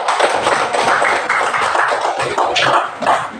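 Students in a classroom give a burst of dense, continuous hand clapping, loud and close, with many overlapping claps sustained throughout and no voices on top.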